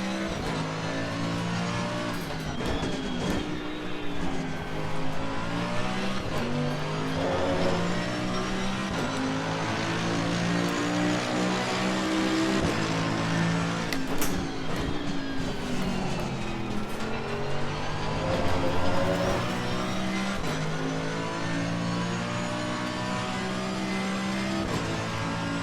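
A Mercedes race car engine in Assetto Corsa Competizione roars loud and continuous, climbing in pitch through revs and dropping at each gear change, with no talking over it.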